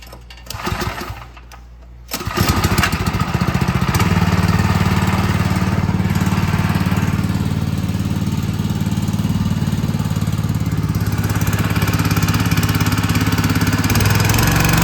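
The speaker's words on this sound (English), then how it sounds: "So Gary is going to start the motor" A motor starts up and drives a pump for a BIO-GEL dry granular induction system, settling into a loud, steady mechanical hum close by after a brief start-up clatter.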